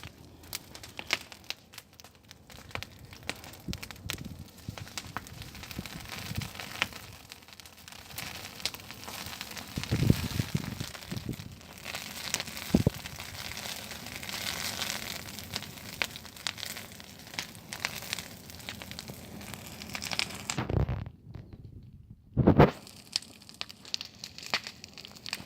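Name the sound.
bonfire crackling, burning a pear tree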